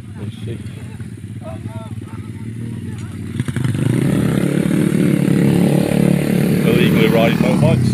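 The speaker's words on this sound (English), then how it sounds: "So you can hear the motorbikes." Motorbikes ridden illegally near a stealth campsite drone steadily in the background, swelling louder midway as they approach and rev, with someone talking over them.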